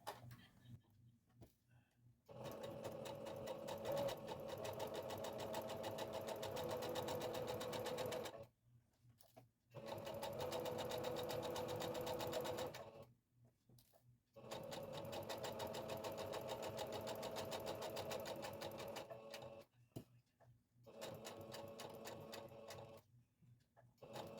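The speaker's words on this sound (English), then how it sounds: "I'm still getting used to my new sewing machine, my patchwork, my Singer patchwork" A Singer patchwork sewing machine runs in steady bursts of rapid stitching, stopping briefly between runs, close and clear with no talking.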